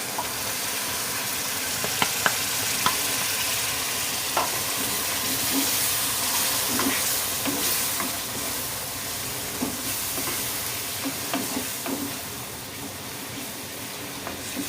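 Egg masala gravy with yogurt cooking in oil in a pan while being stirred: a loud, steady, close sizzle and bubbling with occasional soft spoon scrapes throughout.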